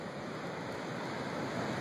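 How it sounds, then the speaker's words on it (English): Heavy storm surf at Humarock roars as a steady, dense wash of breaking waves, loud and continuous with no talk. "we're expecting to see some heavy-duty waves"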